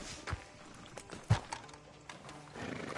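Horse hooves clip-clopping on a town street in the video game Red Dead Redemption 2, a few scattered, fairly faint hoof strikes with one sharper knock and a low neigh-like sound amid quiet ambience.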